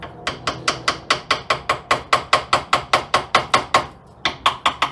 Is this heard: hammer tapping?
yes